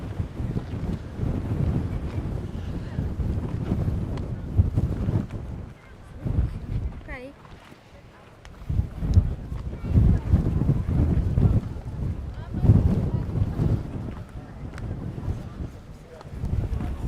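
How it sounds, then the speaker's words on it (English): Strong gusting wind buffets the microphone on an exposed hilltop above Naxos by the marble Portara, surging and easing in loud rumbling waves while a person speaks. "It's about to get very windy up here."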